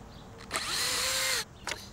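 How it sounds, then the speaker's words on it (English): A power drill fitted with an 8 mm auger bit bores through wooden sandpit side pieces, a single loud, near whirring burst rising briefly in pitch, then stopping, with a short clunk afterward. "So I'm going to drill right through the center of our spade bit hole into our side pieces."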